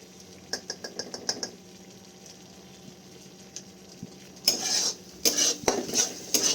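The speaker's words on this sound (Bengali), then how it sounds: "তারপর সব কিছু ভালো করে এখানে আমি মিক্স করে নেব।" A utensil stirring broccoli masala with red chili sauce in a pan, a quick series of sharp clinks and scrapes, a quiet pause, then another burst of louder scraping and clattering, close and alone without talk.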